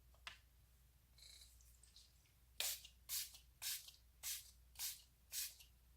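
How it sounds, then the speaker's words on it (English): Six quick hissing bursts of a Milani Make It Last setting spray bottle follow one another at a steady pace, close and crisp, after a few softer sounds of handling. "I'm just gonna go in with the Milani Make It Last setting spray."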